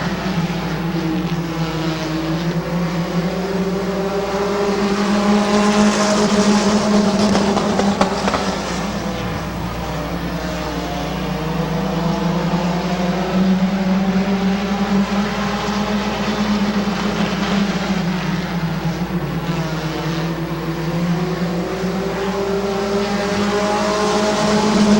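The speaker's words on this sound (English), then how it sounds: "still racing with Wes Ennis in the 18 car" Race cars roar around the Midvale Speedway oval, a loud sustained engine drone that rises and falls as the field passes, continuous for the whole stretch.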